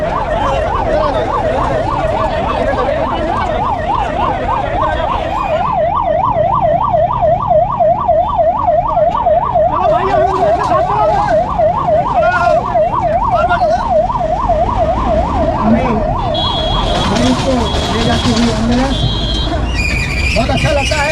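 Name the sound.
ambulance siren passing through a crowd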